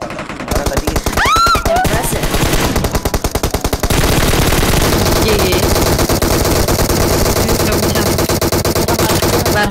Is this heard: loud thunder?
no